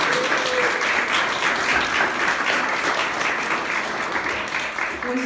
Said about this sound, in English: So I just wanted everyone to give a round of applause to a person who volunteered to speak to us.